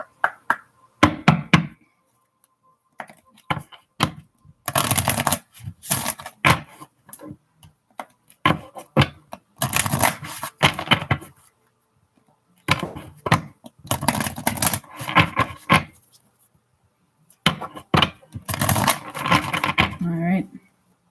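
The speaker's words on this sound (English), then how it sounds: "I'm going to shuffle so you guys have time." Tarot cards are shuffled in several quick bursts of riffling and tapping, separated by short pauses, heard up close.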